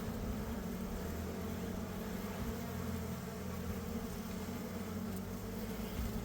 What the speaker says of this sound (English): we can see the bees are there